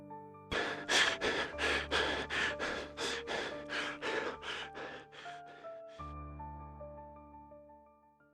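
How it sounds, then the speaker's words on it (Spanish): Rapid, heavy panting breaths, about a dozen quick sharp gasps in a fast rhythm over a low musical drone, then the breathing stops and the eerie music continues alone. "su respiración era muy rápida"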